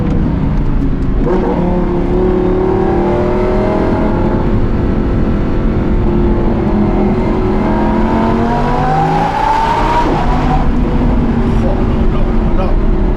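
The V10 engine of an Audi R8 with a Capristo exhaust revs hard and loud, pitch climbing and falling through gear changes, close and continuous for the whole stretch.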